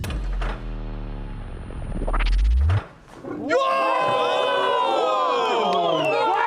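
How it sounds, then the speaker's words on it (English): A crowd at a car giveaway erupts into loud, sustained cheering and shouting right after a door slides open with a low rumble, the noise continuing for several seconds. "As the door opened, the crowd cheered again."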